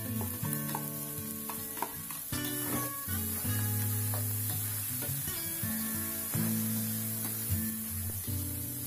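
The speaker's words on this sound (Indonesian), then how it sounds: "Selanjutnya kita masukkan daging tongkol yang sudah disuir-suir tadi. Kemudian aduk sampai semuanya rata." Shredded tuna fries in a pan with a constant soft sizzling hiss and occasional stirring clicks, set under steady background music.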